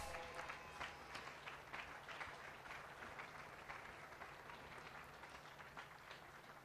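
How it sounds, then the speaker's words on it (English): A speedway crowd applauds in tribute to a deceased racer. The clapping is dense and sustained, with no pauses, and sounds moderately distant across the stands. "So one more big round of applause for Tiger."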